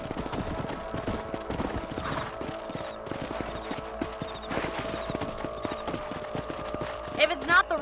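A horse gallops in the video game Red Dead Redemption, its hooves clip-clopping in a steady rapid rhythm beneath constant background game sound, with a brief louder burst near the end.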